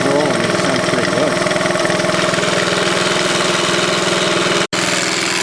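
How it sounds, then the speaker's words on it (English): A 1971 Honda CT70 small engine idles with a steady, loud putter and a loose throttle rattle, close by, cutting out for a split second near the end, with a person talking over it. "That was the throttle rattling,"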